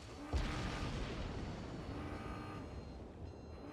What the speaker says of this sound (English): here is the incoming fire